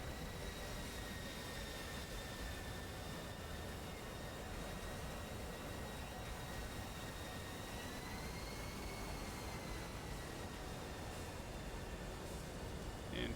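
A jet aircraft on approach with its landing gear lowering as it begins a left-hand turn, a steady broad engine roar with whining tones that slowly shift in pitch, continuous and moderately distant, no voices.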